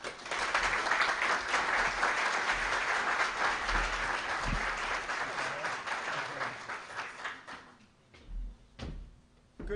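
An audience applauds to welcome lecture speaker Jeff Broadhurst, a dense, sustained clapping that fills the room, then thins out and fades to a few scattered claps and faint thumps.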